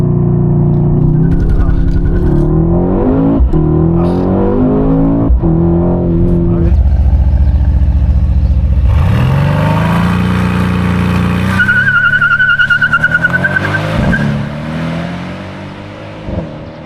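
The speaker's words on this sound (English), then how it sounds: "Obviously, being rear-wheel drive, it does spin up a bit, but it's very composed" Mercedes-AMG C63S coupe (W205), rear-wheel drive, doing a race-mode launch start: engine roars loudly and climbs through gears with rising harmonics, a sharp tire squeal partway through as the rear wheels spin, fading at the end.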